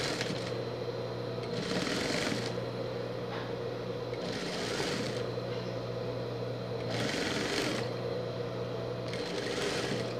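Sewing machine stitching fabric for a pet carrier, heard close and alone in several bursts of running separated by short pauses.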